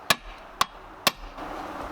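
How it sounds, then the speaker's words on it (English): Three evenly spaced metallic hammer taps drive a bolt out of a Freeman hatch on a fishing boat. The taps are sharp and close, with a faint shuffling noise after the last strike. "Now tap that bolt back out."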